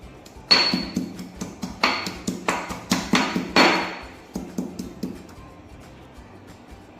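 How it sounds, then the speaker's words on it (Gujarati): Ginger, green chillies and garlic pounded in a mortar with a pestle, a series of about a dozen sharp, close thuds in a steady rhythm that ease off and fade toward the end. "સૌથી પહેલાં આપણે આદુ મરચાં લસણને ખાંડણીમાં વાટી લઈશું"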